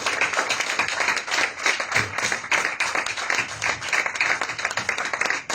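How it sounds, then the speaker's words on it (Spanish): A church congregation claps loudly and in rhythm, dense hand claps filling the space continuously with a quick, pulsing beat, close and energetic, without talk over it. "Denle un aplauso al Señor,"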